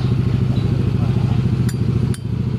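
Noisy motorcycle engine with a worn valve guide, running steadily and loud close by, with a clattery mechanical chatter and a voice speaking over it.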